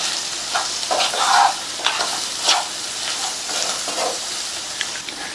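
Garam masala, spice powders and salt stirred into hot oil make a close, hissing sizzle, with a handful of scraping strokes and light clicks of the spoon over about five seconds and no speech.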